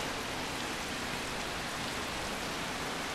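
Loud rain pounds down at a lighthouse as a steady, dense roar, close and constant without any breaks.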